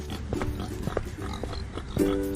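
Cartoon pigs from an animated Three Little Pigs fairy tale grunt and oink in a quick, close series of short calls, finishing with a louder, drawn-out squeal.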